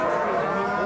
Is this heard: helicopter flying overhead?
no